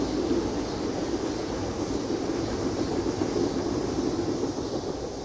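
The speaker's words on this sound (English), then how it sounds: "Trains going by." A train passes by a lakefront neighborhood in Chicago, heard as a continuous broadband rumble and roar that holds steady for several seconds before easing slightly at the end.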